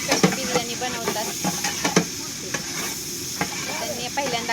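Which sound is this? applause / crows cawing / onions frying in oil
onions frying in oil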